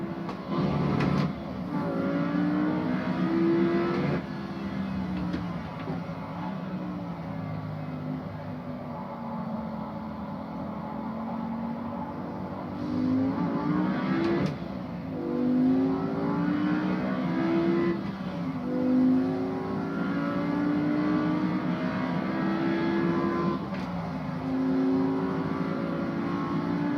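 Car engine in a racing video game driven with a Logitech G920 wheel, revving and shifting pitch continuously over a steady droning bed, fairly loud with no talk.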